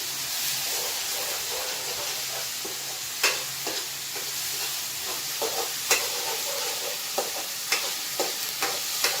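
Mint rice masala fries in a pan with a steady loud sizzle and hiss, while a spoon scrapes and stirs it in irregular clinks and scrapes throughout.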